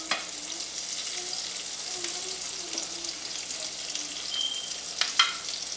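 Sliced shallots sizzle and fry in a pan with chicken drippings, a steady close crackle with occasional stirring clicks and a few sharper pops toward the end.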